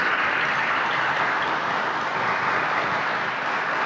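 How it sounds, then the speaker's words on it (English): A seated audience at a panel event at the Art Museum of South Texas claps steadily for the panelists, a dense and even wash of applause that holds at the same level throughout. "let's give our panelists a round of applause for their intelligence"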